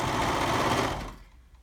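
A sewing machine runs in one short, steady burst while stitching the shoulder seams of a garment, its close, fast whir stopping abruptly after about a second, with no talking.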